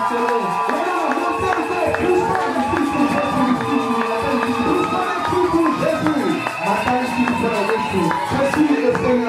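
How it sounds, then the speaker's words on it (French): A church congregation raises loud, sustained cheering and joyful shouts, a dense crowd roar of many overlapping voices that holds steady without pause. "Poussons les cris de joie pour le Seigneur."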